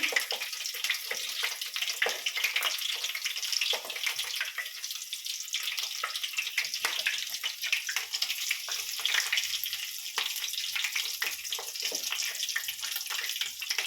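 Chicken fritters fry in hot oil in a pan, a dense continuous bubbling sizzle that holds steady and fairly loud throughout, with no talk.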